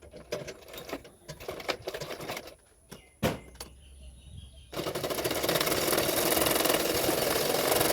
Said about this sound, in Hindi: पीछे की तरफ फोल्ड करते हुए सिलाई कर रही हूँ।